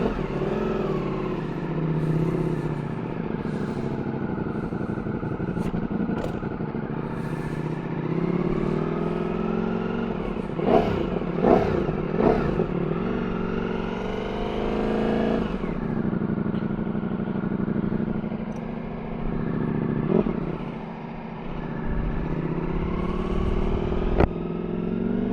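A motorcycle engine drones continuously while riding along a road, its pitch rising and falling through shifts and throttle changes, loud and steady throughout.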